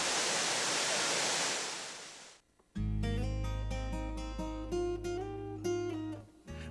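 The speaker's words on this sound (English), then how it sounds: "If this waterfall was in an amusement park, it would probably make a great water slide." A waterfall in Ohio's Hocking Hills state parks roars as a loud, steady broadband rush for about two seconds, then cuts out abruptly as music takes over.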